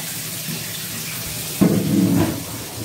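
Hot tap water runs into a sink to rinse out a 5-gallon betta fish tank after cleaning with apple cider vinegar, a steady broadband rush that swells louder partway through, close and alone without talk.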